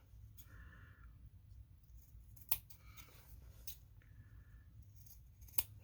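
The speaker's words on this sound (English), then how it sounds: "Snip these corners." Scissors snipping the corners of fabric for mug rugs: a few faint, sharp cuts spaced apart over quiet room hum, close by and with no talking.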